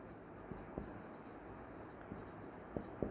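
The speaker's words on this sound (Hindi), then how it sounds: "तो यहाँ पे लिखेंगे" A pen scratches across paper while someone writes out a physics derivation, faint and close, with soft strokes and a few sharper taps, heard in a quiet room.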